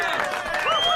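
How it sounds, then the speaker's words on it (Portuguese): A short, loud burst of electronic crowd applause and cheering plays from a canned clapping effect, with no talk. "colocando as palmas da nossa claque eletrônica"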